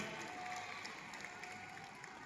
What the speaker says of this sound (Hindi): श्री अश्वनी उपाध्याय जी को जोरदार करतल तालियों से स्वागत